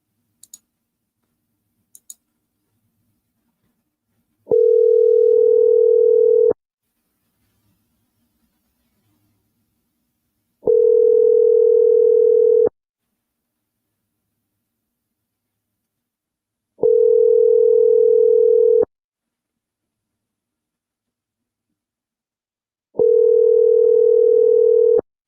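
An outgoing phone call begins with a couple of faint clicks, then four evenly spaced ringback tones sound, each about two seconds long with silence between them; no one talks.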